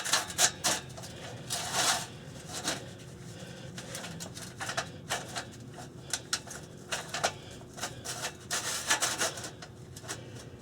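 An exhaust clamp sliding over a muffler pipe on a 2013 Ford Super Duty during a 5-inch exhaust swap. Close, faint metal scraping and rubbing comes in irregular bursts with small knocks between them.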